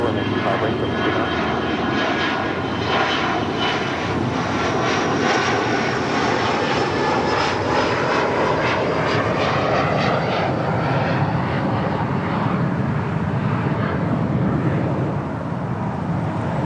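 A jet airliner roars down runway 25 right at LAX on takeoff, a loud, sustained broadband engine rumble with a rising, sweeping whine that holds steady throughout.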